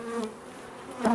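Honeybees hum at an opened hive of a small recovering colony during the first visit of the year, a close, continuous buzzing that swells briefly near the end.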